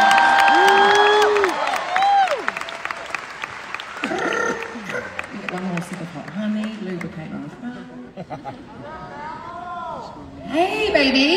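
A concert audience at a concert applauds and cheers as backing singers come on stage, a broad wash of clapping and whoops with a loud sung or shouted voice riding over it and a fresh swell near the end.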